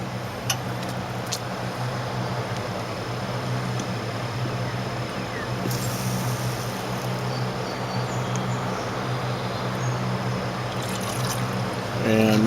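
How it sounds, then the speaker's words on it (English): Water trickles and rinses down the inside of a vessel holding sterling silver dissolving in nitric acid, a steady close wash under a faint continuous hum, with people talking over it. "Go ahead and rinse us down a little bit."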